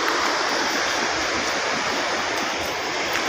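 Gullfoss waterfall in Iceland roars as a steady, loud, broadband rush of falling water, continuous and even throughout with no voices.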